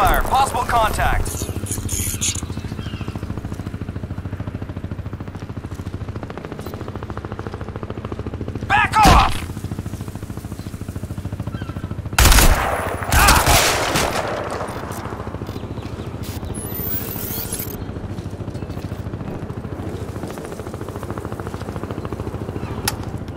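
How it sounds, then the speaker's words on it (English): Gunfire in the video game Crysis 2 comes in loud, sharp bursts and isolated shots over a rumbling battle background while voices talk. "Gunfire! Possible contact!"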